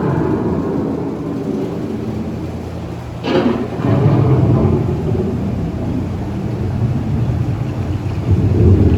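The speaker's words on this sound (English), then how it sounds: "The approaching storm may seem violent and destructive to us" Thunderstorm effect inside the Living With The Land boat ride at Epcot, Walt Disney World: a sharp thunder crack leading into a loud, sustained rumble over steady rain-like hiss, close and enveloping.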